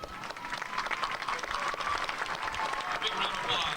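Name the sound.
audience applause at graduation ceremony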